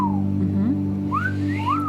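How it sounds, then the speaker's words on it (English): A person whistles a few short rising and falling notes, close and clear, over a steady low hum, during a guided meditation session. "If you can, do a little whistle."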